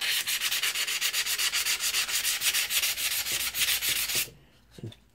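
An old edge tool is sanded with 100 grit paper in fast, even back-and-forth strokes, a loud close rasping rhythm that stops abruptly near the end, followed by a couple of light handling knocks.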